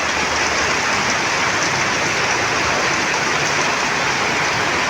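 Steady, heavy rain pours down in a rural province, a loud, unbroken hiss of water striking the ground and plants that fills the whole stretch with no voices.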